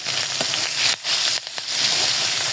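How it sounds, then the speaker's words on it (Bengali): Onion, garlic and chili fry in hot oil in a wok, a loud, close hissing sizzle that briefly drops away twice as the pan is tossed or stirred, then surges back. "বাদামি কালার হয়ে পেঁয়াজ রসুন দিয়ে দিচ্ছি। আর একটু ভাজা ভাজা করে নিচ্ছি"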